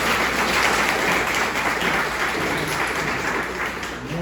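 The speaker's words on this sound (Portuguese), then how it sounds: "uma salva de palmas aí" An audience at a couples' retreat breaks into dense, sustained applause, many hands clapping loudly and evenly, fading slightly toward the end with no voices on top.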